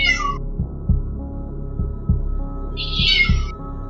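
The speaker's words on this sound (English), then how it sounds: "he could still hear his cat meowing at the door for hours" A cat meows twice, a short high cry and then a longer one, over a low throbbing heartbeat-like pulse and hum, as a sound effect in a scary story.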